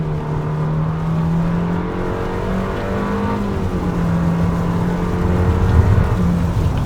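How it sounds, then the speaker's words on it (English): A 2021 Nissan Kicks SR compact SUV with a 122-horsepower engine accelerates hard from a stop sign, a steady loud engine drone climbing in pitch and growing slightly louder over several seconds, with no talk. "I'm gonna mash the pedal, go."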